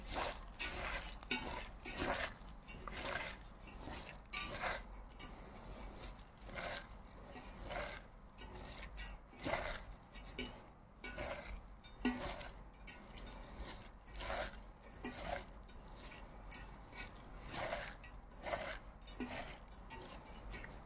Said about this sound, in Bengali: মশলাটা ভালো করে চালের সাথে মিক্স করে নেব